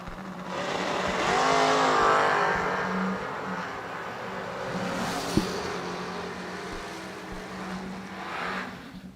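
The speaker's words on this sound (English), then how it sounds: "Corvette Stalker is this right here, 64, 65 Corvette in the right lane" A 1964/65 Corvette and a Thunderbird drag race at World Wide Technology Raceway, their engines roaring loud and close, swelling early and then easing into a sustained drone, with a sharp knock midway and a final surge.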